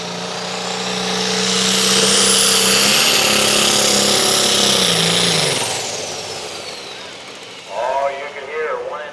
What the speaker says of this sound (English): you could hear one injector didn't seem to be cutting loose, and he just was not running on all six.